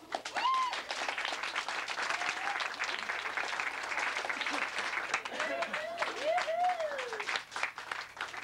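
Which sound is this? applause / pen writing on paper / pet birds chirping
applause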